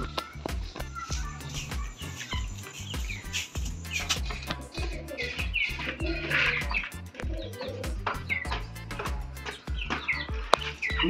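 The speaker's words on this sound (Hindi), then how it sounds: "देख सकते हैं जो हम बहुत सारे मुर्गियाँ लेकर आ चुके हैं" Newly brought-home hens cluck and chirp in a busy, continuous stream with scattered sharp sounds and some speech mixed in, birds close by and fairly loud throughout.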